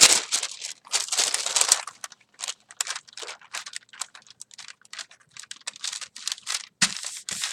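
Paper being burnished onto a gelli printing plate, rapid dry rubbing and scratching strokes in quick bursts with short pauses, close and crisp.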